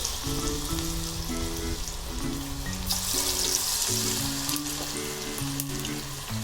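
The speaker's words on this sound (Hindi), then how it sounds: "इसी तरह से मैं एक एक करके बेबी कॉर्न इसमें डालती जाऊंगी।" Baby corn pieces fry in oil in a kadai, a steady dense sizzle running throughout over background music, with no talking.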